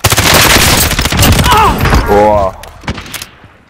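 Loud gunfire from a sniper rifle in the video game Call of Duty: Modern Warfare, with sharp cracks over dense in-game noise and radio-style voice chatter, then quieter scattered sounds near the end.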